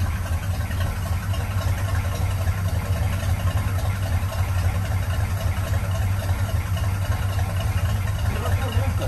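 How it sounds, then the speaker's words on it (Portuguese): A 1978 Dodge Charger R/T engine idles steadily after its carburetor was refitted without adjustment, a constant low rumble filling the whole stretch with people talking over it. "Deu a lenta na primeira."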